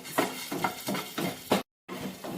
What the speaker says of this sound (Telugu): ఈ ఆయిల్లో మనము పెద్ద సగ్గు బియ్యము కొంచెం లైట్గా ఫ్రై చేసుకుందాం